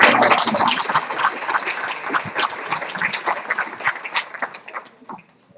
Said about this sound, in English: big round of applause for all of this talent